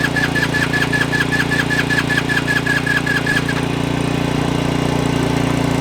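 GY6 scooter engines run with a loud, steady mechanical drone and a rapid repeating tick over the top that cuts out partway through, while the engine roar continues alone.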